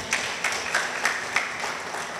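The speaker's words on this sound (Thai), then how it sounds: "ปรบมือให้กับพระเจ้าสิครับพี่น้อง" A church congregation claps together, a dense wash of hand claps with a few sharper accents standing out at an irregular pace. The applause stays moderately loud and even throughout, with no voices speaking.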